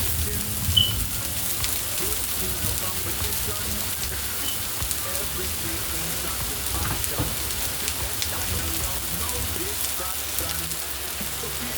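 Chopped onion sizzles steadily in a hot pan while meatloaf is being made, a constant hiss and crackle of frying that holds at an even, moderate level close by.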